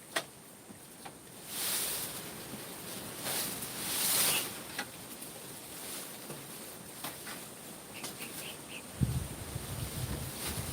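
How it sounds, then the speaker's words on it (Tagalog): Gusty wind blows around a hut during a storm, buffeting the microphone in rising and falling surges over a steady rushing background, with no voices. "Binabagyo kami ng hangin. Grabe yung hangin daw."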